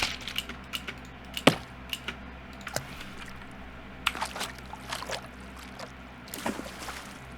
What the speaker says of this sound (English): And this is where we got the splashes.